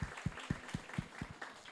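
A church congregation applauding at a service, heard as a steady run of evenly spaced, punchy claps in a rhythmic pattern, fairly faint overall.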